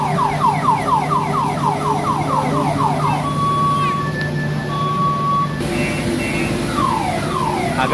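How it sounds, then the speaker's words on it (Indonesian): Repeating electronic warbling tones and beeps from a children's ride, looping loudly over busy indoor background noise in a play area. "sini area permainan anak ada kereta-keretaan yang bunyinya lumayan juga"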